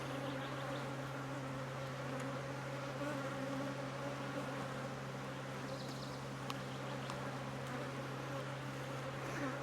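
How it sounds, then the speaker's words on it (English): Angry queenless honey bees swarming close around a beekeeper, a dense continuous buzzing drone with a steady hum, loud and near, no talking. "they're all over me. They're mad, they're upset. Because they don't have a boss."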